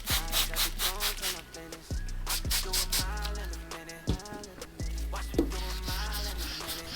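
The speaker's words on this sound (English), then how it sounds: "this time this is a more finer grit of sandpaper, so that means we're gonna make the scratches more finer" A car headlight being wet sanded by hand with fine grit sandpaper in straight linear strokes, giving repeated close rubbing swishes in an even rhythm over faint background music.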